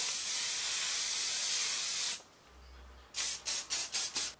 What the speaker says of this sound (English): we're just going to spray that generously.